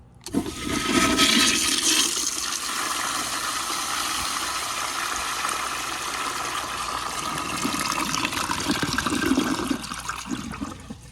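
A 2000 American Standard Colony toilet on a flushometer flushes a grocery bag, producing a loud rushing surge of water that settles into steady flow and refill for around ten seconds.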